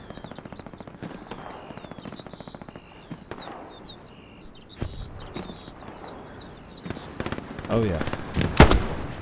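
Machine gun fire in the Hell Let Loose video game on the Eastern Front, rapid rattling bursts that are mostly distant, with birdsong chirping above, a few louder nearby shots near the end, and a player briefly speaking.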